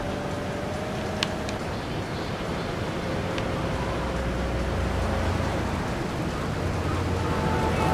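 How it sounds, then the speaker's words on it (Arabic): Steady rain falls in the open world of GTA III Definitive Edition, a dense, continuous wash of noise heard alongside a low engine hum and a few faint clicks, with no talking. "بدأت تمطر"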